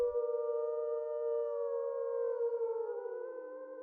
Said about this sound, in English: A low growl carried on the breeze, followed by another faint howl, closer this time